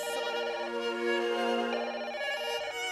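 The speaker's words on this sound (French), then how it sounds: "le téléphone qui sonne" A telephone ringtone plays loudly and alone for three seconds, its steady electronic tones repeating in a bright melodic pattern with no voices over it.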